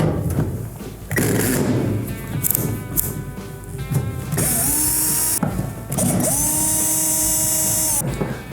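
Screws being backed out of the top panel of a Maytag dryer, heard as mechanical ratcheting and whirring bursts from a power driver, with two longer sustained runs near the end.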